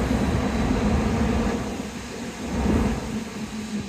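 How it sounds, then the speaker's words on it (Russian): Strong wind roars across open marshland in a continuous low, rumbling rush that swells and eases slightly, loud and close with no voices. "Да, тут вот такой ветер бывает"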